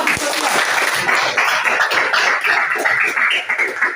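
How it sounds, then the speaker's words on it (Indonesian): Students in a high school classroom give a round of applause, a loud, dense patter of close clapping that runs through without pause. "Iya, tepuk tangan."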